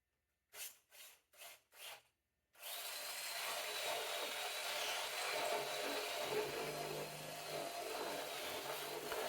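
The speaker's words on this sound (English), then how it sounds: "I'm going to drill out 1-inch holes to take into account the length of threaded rod along with the double nuts." Power drill with a spade bit boring 1-inch holes in laminated plywood, a few short taps first, then a sustained, loud grinding whir that continues steadily to the end.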